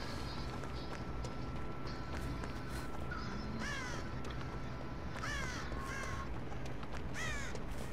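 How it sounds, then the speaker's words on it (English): Crows caw repeatedly in the video game Dead by Daylight, several harsh calls in bursts over a steady noisy game ambience. "Just me alerting every crow."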